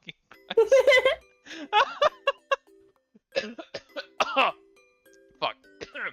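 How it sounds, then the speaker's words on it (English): A person coughs repeatedly with a dry throat after hard laughing, in rough close bursts with throat clearing, mixed with speech and giggles. "If I laugh too hard, I get dry throat and I start coughing."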